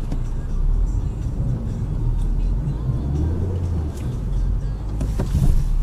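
Steady low engine drone and tyre roar from a car stuck and spinning its wheels while trying to drive off, with a brief rise in revving near the end.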